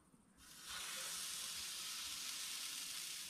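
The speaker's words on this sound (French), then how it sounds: "quand on va mettre la chipolata, elle va crépiter" An herb chipolata sausage hits a hot barbecue grill and bursts into a steady, hissing sizzle heard close up, with no one speaking.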